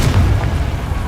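Confringo blasting spell exploding in Hogwarts Legacy, a single loud, heavy boom with deep rumbling low end that fills the short moment.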